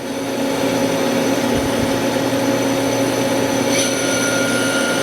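Continuous high-pitched whine and hum of a live tool spinning at speed on the turret of a Citizen M-20 CNC Swiss-type multi-axis lathe, steady and loud with sustained tonal lines.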